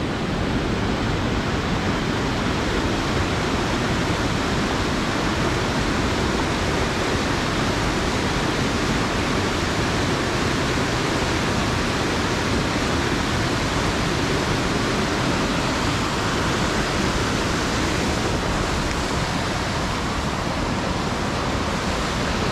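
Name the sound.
waterfall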